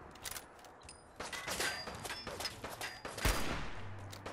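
Short-barreled rifle fire in the video game Fallout 4 sounds in scattered sharp bursts at moderate level, with brief pauses between shots.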